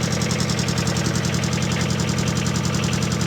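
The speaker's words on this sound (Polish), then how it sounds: "Silnik diesla." A Kubota diesel engine in an Avant ProfiCat 4x4 mini loader runs at a steady idle, with an even low rumble and a rapid knocking pulse throughout. It sounds close and continuous, with no talking.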